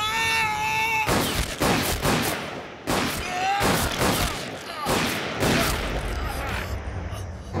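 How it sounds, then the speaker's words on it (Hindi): Gunfire rings out in a Hindi-dubbed action film, with several loud, sharp bursts in quick succession mixed with a wailing voice and dramatic sound. "किसने गोली चलाई है?"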